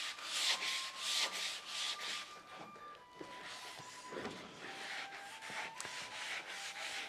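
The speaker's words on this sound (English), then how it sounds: "Now I'm still sanding." Hand sanding scrapes paint off wooden door trim in close, fairly quiet, irregular strokes. A brief pause and a few light knocks break up the rubbing.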